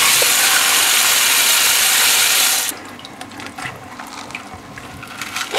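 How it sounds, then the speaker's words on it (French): Tap water pours steadily and loudly over stale bread being soaked to soften it, then cuts off abruptly, leaving faint wet crackles and soft handling sounds. "on va devoir le tremper dans l'eau pour faire ramollir le tout"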